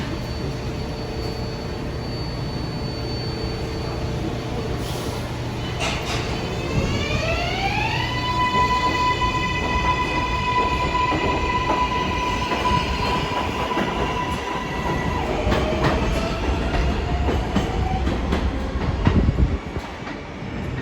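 An R188 7 local subway train at 33rd Street–Rawson Street station during morning rush hour, heard loud and close as a steady rumble of wheels and motors with a rising whine and sustained tonal hum. A brief squeal comes near the end.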